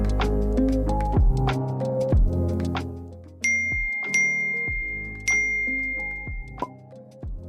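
Message notification pings ring out in a quick series of bright, bell-like dings and chimes, several overlapping tones struck close and loud one after another, sounding on their own without any talk.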